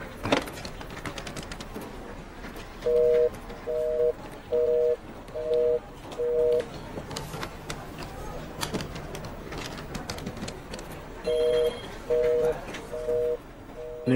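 A telephone ringing with no one picking up: a burst of four short electronic ring tones, a pause with a low background hum, then a second burst of four rings.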